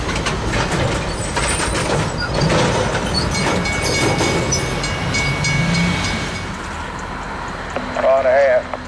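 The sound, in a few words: train moving on siding track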